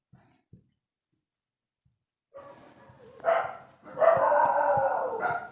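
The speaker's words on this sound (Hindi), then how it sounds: "कुत्ते भौंक रहे हैं, ज़्यादा रात हो गया है।" Several dogs bark at night outdoors, a few scattered low thumps first, then a run of moderately loud, overlapping barks and yelps at mid distance.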